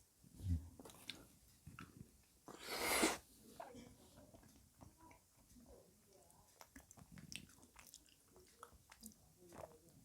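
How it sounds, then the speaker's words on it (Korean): Spoonfuls of cherry blueberry cobbler from an American MRE being eaten, with soft wet chewing and biting sounds close to the mic, a brief loud burst in the middle, and low murmured voice sounds. "이 후식인 것 같은 이 체리 블루베리 코블러도 한번 먹어보도록 하겠습니다 숟가락으로 이렇게 퍼서"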